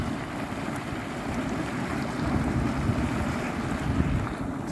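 Boiling hot spring water at the Whakarewarewa geothermal area on a rainy day, a steady churning, bubbling roar mixed with wind buffeting the microphone, continuous and fairly loud, with no voices.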